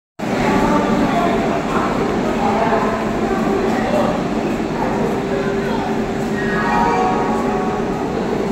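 The Ganadevata train stands at a station platform while people talk, with a steady low rumble and a few faint clinks in the background.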